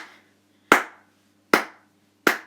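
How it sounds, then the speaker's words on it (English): Three sharp, separate hand claps ring out in a quiet room at a slow, uneven pace, each one a crisp close slap that fades quickly. "It was... clapping. He was being applauded."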